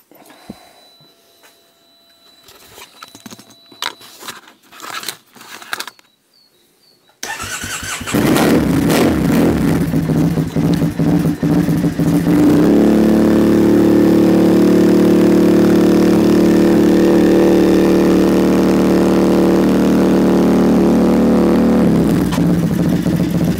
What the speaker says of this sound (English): I get asked quite a bit what the exhaust sound like without a baffle in